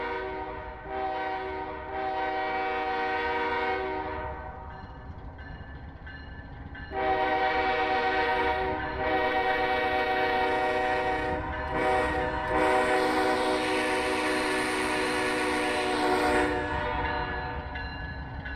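A GEVO-12 locomotive horn from a train simulation sound mod blares in long sustained chords, sounding in several separate blasts over a low rumbling engine bed, loud and close with no talk.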